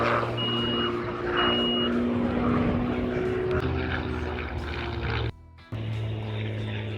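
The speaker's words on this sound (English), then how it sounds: "they're literally just doing a little display on a Spitfire around the ex-estuary" A Supermarine Spitfire propeller aircraft flying a display over an estuary on a hot day: a steady, loud engine drone with propeller throb that holds throughout, briefly cut off near the end, then resuming.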